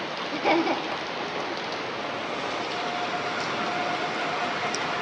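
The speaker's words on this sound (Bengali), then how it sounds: "দারুণ বৃষ্টি হচ্ছে।" Heavy rain falls in a dense, steady hiss on surfaces outdoors, loud and unbroken throughout, with a brief faint noise near the start.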